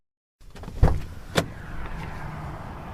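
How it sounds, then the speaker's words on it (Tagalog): A car door swings shut with a solid thud followed by a second lighter knock, then a low rumbling background as the interior settles. "Sara mo yung pinto at pumasok ka din."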